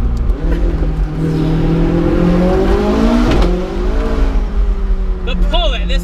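A McLaren 675LT supercar engine rises in pitch as it accelerates hard out of a corner on a road drive, loud and close from inside the cabin, with someone talking over it.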